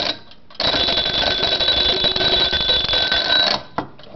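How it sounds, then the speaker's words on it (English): An antique Ansonia chrome wind-up alarm clock rings, a loud continuous metallic bell rattle that starts abruptly and holds for about three seconds before cutting off, with a faint click afterward. "Nice loud alarm,"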